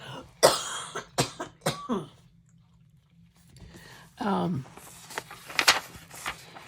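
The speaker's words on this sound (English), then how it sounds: "Excuse me, I need to cough." A burst of several sharp coughs close to the mic, then a pause and some throat-clearing, with a few more rough coughs at the end.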